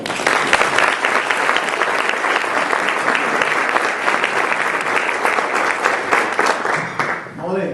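A large audience claps steadily and loudly to welcome speaker Raj Sisodia at a Conscious Capitalism event, the applause holding strong before tapering off at the end.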